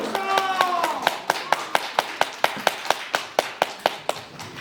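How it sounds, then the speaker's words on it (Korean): Supporters at a presidential candidate's press conference clap in slow, regular, rhythmic beats, about four per second, each a sharp close hit; a faint voice lingers briefly at the start. "그럼 박수 주시고 좀 보여주시고"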